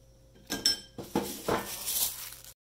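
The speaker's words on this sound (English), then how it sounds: "So now we're gonna start to mix it up" Sugar, salt and spices for beef jerky are mixed in a small dish, with a quick run of clinking and scraping as a spoon stirs against the bowl, close and moderately loud, then stopping.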